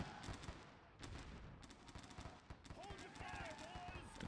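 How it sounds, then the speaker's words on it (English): Artillery and gunfire from a Civil War battle in the strategy game Sid Meier's Gettysburg, with dense overlapping shots rattling on throughout under a voice. "This close-in battery of artillery here firing kind of almost into their flank is helping"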